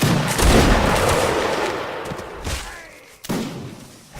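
Musket volley fire from the video game Mount and Blade Napoleonic Wars, with rolling, overlapping gunshots and thuds of a line firing at will against Austrian Landwehr, dense and loud throughout with a sharp crack near the end.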